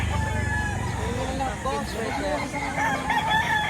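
Roosters at a chicken market in Lipa, Batangas crow and cluck over a busy background hum, with people talking nearby throughout.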